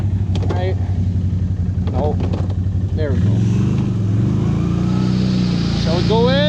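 Can-Am off-road vehicle driving through flood water, its engine a loud continuous drone that rises and surges, with people talking and calling out over it throughout.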